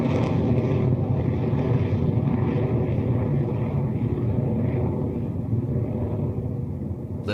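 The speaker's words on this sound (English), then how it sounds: "We got a liftoff." A Rocket Lab Electron rocket lifts off carrying a SAR radar satellite for iQPS, producing a heavy, continuous broadband roar and rumble that holds steady at full loudness throughout, with no voices.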